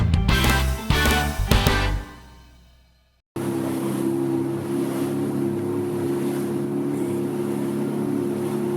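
Fishing boat engine running at sea off the Uljin coast, a steady droning hum with wash and wind noise. It follows a burst of loud music that fades to silence before cutting in.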